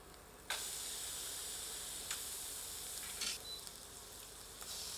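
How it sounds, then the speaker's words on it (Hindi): Animal fat gently sizzling at low heat in a pressure cooker, a steady close frying crackle with a few brief sharper pops, no voices. "चर्बी यानी वसा को धीरे धीरे भूनते हैं"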